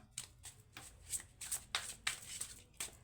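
A Divine Osho Zen tarot deck being shuffled by hand, a quiet, close run of crisp riffling card flicks repeating in short bursts, with no talking.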